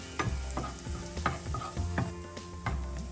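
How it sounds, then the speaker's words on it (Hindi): Chopped garlic sizzles steadily in a hot pan, with scraping stirs every half second or so, up close and without talking. "अभी ये चॉप्ड गार्लिक लहसुन डाल देते हैं। हल्का सा कलर चेंज हो जाए तब तक हमें फ्राई करना है।"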